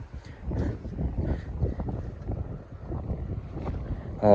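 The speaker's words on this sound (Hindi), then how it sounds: "लगातार हवा चल रही है तेज वाली," Strong, steady wind blows across a rocky high-mountain landscape on the trek to Nanda Devi East base camp in the Himalayas. The wind roars and buffets the microphone continuously and loudly, with no talk.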